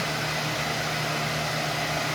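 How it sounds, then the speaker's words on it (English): A hair dryer running at about 1420 watts, powered by a Voltworks 2000W 12V power inverter: a steady, even whooshing blow with a low hum underneath, constant and close throughout, no talk. "I'm still running the hair dryer in the floor. And it's at 1420 watts."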